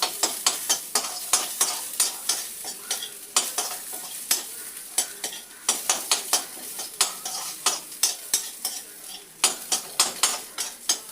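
Shallots, mustard seeds and garlic sautéing in a pan for a drumstick-leaf dish, with repeated rhythmic spatula scrapes and clinks over a steady crackling sizzle, close and fairly loud, no talking.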